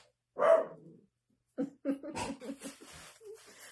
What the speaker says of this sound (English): The dogs go wild